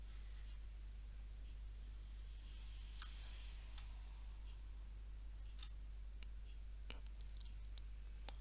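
Mouse clicks from using the Unity editor, a handful of sharp isolated clicks spread across a quiet stretch with a steady low hum and no talking.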